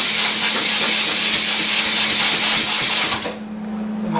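Compressed air blasts across freshly welded body metal on the left side of a 1966 Ford Galaxie 500 convertible. A loud, steady hiss with an underlying electrical hum runs for about three seconds, then cuts off abruptly.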